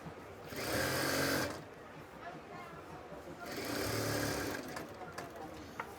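A sewing machine stitches a zipper onto a kameez neckline in two steady bursts of whirring, each about a second and a half long, with a quieter pause between them.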